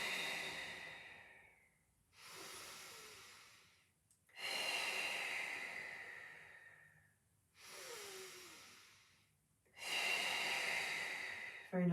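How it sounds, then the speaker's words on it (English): Loud, close breathing during a pilates breathing exercise, four long breath sounds in through the nose and out through the mouth, each a few seconds long with short pauses between, heard alone without talk. "Very noisy breathing"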